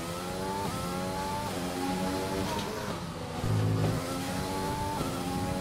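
F1 2020 race car engine at the Australian circuit during qualifying, a loud continuous high-pitched whine climbing through repeated upshifts, with one brief deeper burst partway through and no talking.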